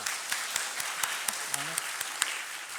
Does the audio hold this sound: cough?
no